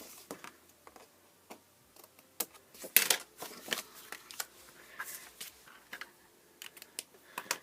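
Scissors or a trimmer cut excess card overhang while making a football card, producing a series of quiet, close snips and crisp paper ticks in an irregular rhythm.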